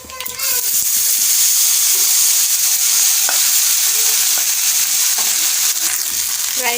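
Rice fries in hot oil as it is stirred and mixed, a loud continuous sizzle with scraping stir strokes.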